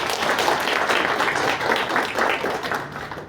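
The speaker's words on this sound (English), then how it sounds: "Let's give a big round of applause to the speaker of the day." Applause from an audience at a leadership lecture for the speaker of the day, a dense patter of many hands clapping steadily throughout, moderately loud and close, fading slightly at the end.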